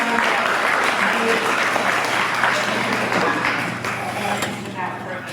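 Steady crowd applause fills the whole clip, dense and continuous, easing slightly toward the end.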